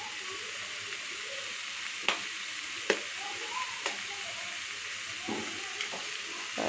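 A cauliflower and egg fry cooks in a pan with a steady, faint sizzle and a few sharp clicks of utensils against the pan, with no voice over it.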